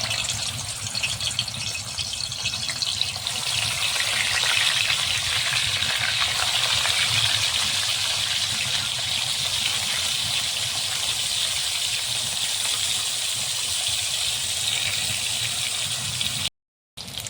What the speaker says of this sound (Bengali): তেলটা আমার গরম হয়ে গেছে, মাছগুলো ছেড়ে দিব।